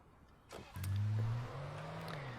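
A car engine in the video game Alan Wake rises in a revving surge as the vehicle accelerates, a loud, steady low drone that settles slightly after the first burst.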